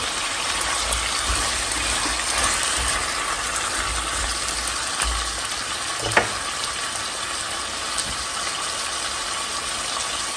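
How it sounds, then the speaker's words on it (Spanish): Six guajillo chiles fry in a pan, giving a steady, close sizzle that runs throughout with one brief clink partway through. "Ahora le voy a agregar 6 chiles guajillo."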